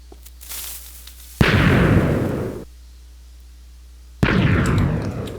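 A piston-loaded TNT cannon in Minecraft 1.7 fires twice, each shot a loud, booming blast that hangs on for more than a second before cutting off, with a quiet stretch between the two shots.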